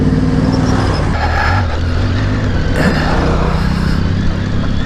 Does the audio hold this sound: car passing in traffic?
yes